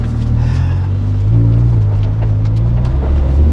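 An Audi R8 V10 engine roars loud and close with a deep, steady rumble, the revs lifting slightly partway through, with no talk.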